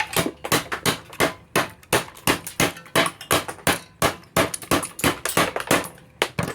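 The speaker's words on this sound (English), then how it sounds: "Then you're going to take a hammer" Rapid, sharp hammer blows cleaning out a wooden half lap joint cut on a miter saw, dozens of crisp strikes in uneven bursts, close and loud with brief pauses between runs.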